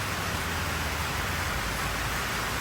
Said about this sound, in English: this rain is not working to our favor